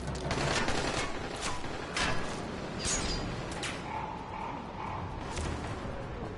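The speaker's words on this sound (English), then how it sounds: "there's one below us shooting at us" Enemy gunfire in the zombie survival game Dying Light, shooting up from below: bursts of rapid cracking shots at mid distance, arriving in uneven clusters over a steady background hiss, with no voices.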